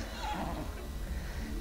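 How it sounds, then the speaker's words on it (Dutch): A horse in the video game Star Stable gives a loud, close, drawn-out neigh that fills the short moment with no talking. "Dit paard gaat helemaal wild, jongens."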